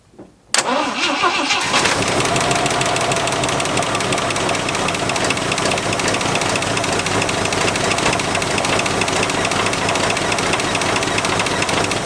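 A 1974 Jeep CJ5 six-cylinder engine cranks over and catches after a brief pause, then runs loud and steady with a rough, knocking idle close to the listener.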